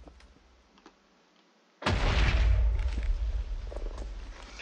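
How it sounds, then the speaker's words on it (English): Explosion in the video game Minecraft, a sudden loud booming burst after quiet, then a lingering rumbling decay that fades slowly. "I hear explosions!"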